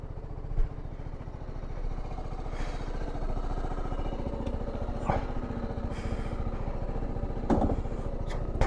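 Motorbike engine running near the Bhagirathi river, a steady low, chugging mid-pitched drone with a fast regular pulse and occasional clatters and small bumps throughout.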